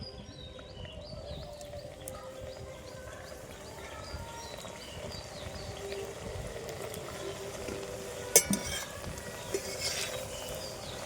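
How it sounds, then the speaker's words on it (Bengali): Sweet potato jalebi frying in hot oil in a home kitchen, a steady soft sizzle and bubbling throughout with a few brief clinks near the end. "আর একবার ভেজে নেব"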